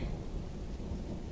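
Steady rain and low rolling thunder wash outside a room in a Turkish radio drama, a dense, even rumble with patter on top and no talk.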